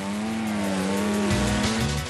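A toy race car's motor revs and whines at the start, sustained close engine-like tone that shifts pitch as it moves forward.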